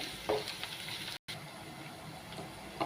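Green chillies and curry leaves frying gently over low heat in a pan for pomfret fish curry, a continuous soft sizzle with faint stirring taps at the start and end and a brief dropout midway.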